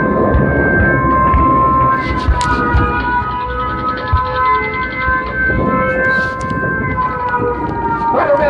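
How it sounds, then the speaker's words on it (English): Wailing air raid sirens drone continuously with overlapping rising and falling tones, mixed with a dense rumble of distant noise and booms throughout, in a Pearl Harbor attack re-enactment at EAA AirVenture 2013. "the first sirens and alarms sound"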